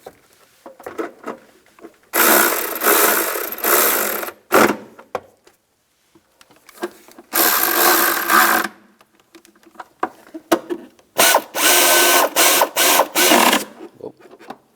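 A ratchet snugs down bolts during coolant temperature sensor replacement on a 1996-2002 Toyota 4Runner, coming in three loud bursts of fast clicking separated by quiet pauses and small handling noises, close up with no speech.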